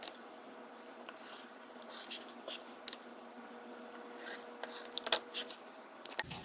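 Fabric for a candy corn quilt being cut at a quilting table, heard as quiet, irregular rasping strokes and short snips, several brief bursts clustered toward the end over a low room hush.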